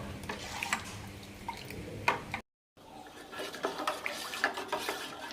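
A spoon scrapes and clatters around a pot of tapioca papad batter, seasoned with asafoetida and cumin, as it is cooked down and thickened. The close, uneven bursts of scraping are broken by a brief silent gap midway.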